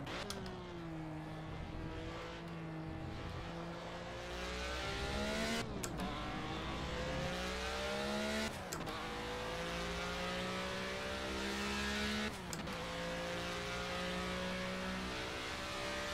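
An Alpine A442B race car engine in Project CARS, revving loudly and rising in pitch through the gears, with sharp breaks at each upshift, a continuous close engine drone with no speech.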